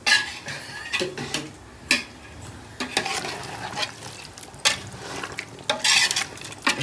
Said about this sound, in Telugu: మంచిగా కలుపుకుందాం.